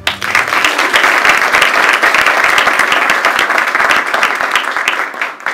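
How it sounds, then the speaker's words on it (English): A full audience gives a big round of applause for a speaker at an evening community talk event, the clapping loud, dense and sustained throughout before tapering slightly at the end. "so give a big round of applause for David Keller."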